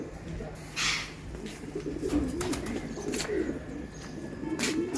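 Pigeons coo repeatedly in a series of low, rolling calls, fairly close, with occasional wing flutters and faint background voices.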